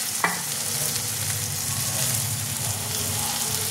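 A spice paste of white sesame and yogurt cooks in a pan for a stingray fish curry, giving a continuous close sizzle and bubbling with faint stirring scrapes.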